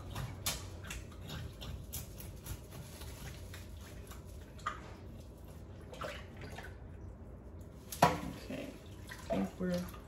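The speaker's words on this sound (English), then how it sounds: "I stopped up my sink so I could start running the water" A kitchen tap runs water into a stopped-up sink while fish is rinsed, an uneven splashing and trickling with clinks and knocks, fairly faint.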